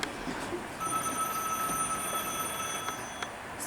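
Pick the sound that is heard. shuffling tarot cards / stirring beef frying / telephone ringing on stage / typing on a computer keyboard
telephone ringing on stage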